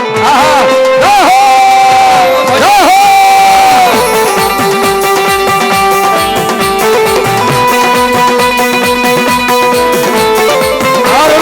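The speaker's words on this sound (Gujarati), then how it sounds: "તાળી પાડો તો મારા બાપ તાળી પાડો" A large crowd cheers and whoops loudly and continuously at a Gujarati devotional folk gathering, with sustained musical tones running underneath.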